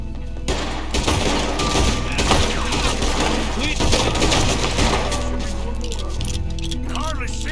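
Gunshots in the western game Red Dead Redemption 2 pop constantly under a dense, loud mix of thuds, impacts and a steady low rumble, with voices talking throughout.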